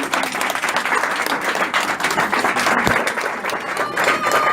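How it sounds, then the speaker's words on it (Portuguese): A church congregation applauds steadily through a dense, continuous wash of clapping that stays loud and even from start to finish, with no voice standing out. "Sentem aplaudindo esse Deus que é fiel"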